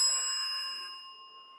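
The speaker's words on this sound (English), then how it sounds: "So that's an example of how you can use a bell like that." A single strike of a hand-rung metal service bell of the kind once used to summon the maid to the dinner table, a clear bright ding whose pure ringing tones decay slowly, alone and unaccompanied.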